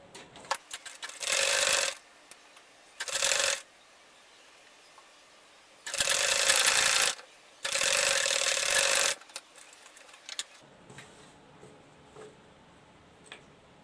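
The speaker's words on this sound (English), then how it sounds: "I'm going to sew it down" A sewing machine stitching an insulated lunch bag, running in four close, loud bursts of rapid rhythmic whirring, the longer runs in the middle, separated by short quiet pauses with faint ticking and no voices.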